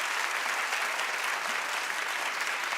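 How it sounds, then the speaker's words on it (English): Dense studio audience applause at a daytime TV talk show, loud and continuous with no breaks, a uniform wall of clapping close to the microphones. "Keep clapping a little louder"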